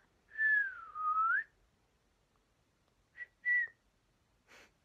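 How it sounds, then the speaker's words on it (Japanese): A person whistles a long, wavering note, then a few short chirpy whistles after a pause, clear and close with no talking. "口笛吹けますか？"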